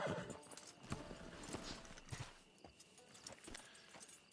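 Horse hooves clop in an uneven walking rhythm in the online Western game Red Dead Online, quiet and fairly close, with faint background ambience and a soft whinny-like tone.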